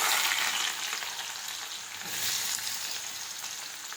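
Chopped chillies and onions fry in hot oil that already holds mustard seeds and cumin. A continuous bright sizzle swells and eases slightly as the pan is stirred, close and alone with no voices.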